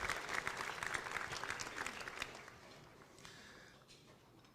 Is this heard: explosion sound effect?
no